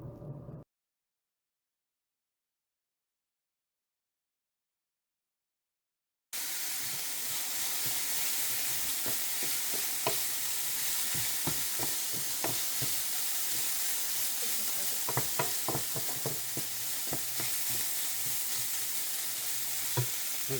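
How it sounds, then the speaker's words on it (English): Pork cubes sizzle and crackle in a hot pot while being stirred for a pea soup. A steady frying hiss with scattered pops and scraping stir sounds follows a brief silent gap, heard close and with no talking. "next I will add pork cubes. You need to stir and cook it for about 2-4 minutes."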